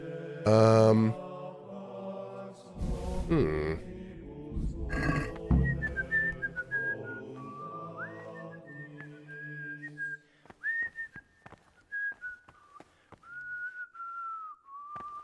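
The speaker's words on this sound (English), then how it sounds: "Damn, that's some quality whistling." Melodic whistling from a character in Kingdom Come: Deliverance, a sustained tune of wavering notes following louder game sounds and clatter, fairly quiet and without speech.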